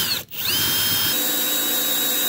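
A power drill runs loudly and continuously, briefly dipping at the start before settling into a steady high whine while boring a 7/8-inch drain plug hole in a small boat hull.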